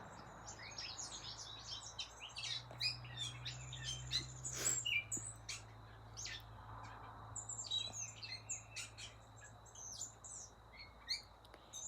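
Birds sing and chirp in a busy, repeated chorus over quiet outdoor ambience, with a low steady hum underneath.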